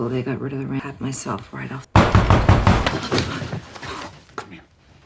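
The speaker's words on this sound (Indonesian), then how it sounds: "Tiba-tiba seorang mengetuk pintu dan mengagetkan mereka berdua" A sudden door knock in a film scene, a loud burst of sharp hits that startles the characters, following quieter speech and music.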